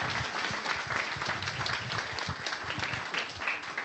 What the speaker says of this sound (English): I think another round of applause is due for all of our fantastic speakers.